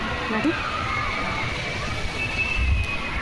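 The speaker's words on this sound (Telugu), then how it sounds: "భలే వస్తున్నాయి కదండి వాటర్ ఫాల్ లాగా" Water pours down like a waterfall on a ride at the Wonderla water park, a continuous rushing slosh heard under nearby voices and general crowd noise.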